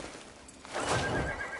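A horse in the video game Crimson Desert gives one whinny, swelling in the second half over faint hoof clatter, fairly close and not loud.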